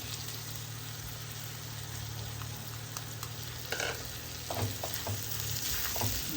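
Rice with dill and salt stirred in a frying pan, a steady low sizzle with spoon scrapes and clatters growing busier toward the end, under a constant background hum.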